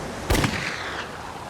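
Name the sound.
pistol shots fired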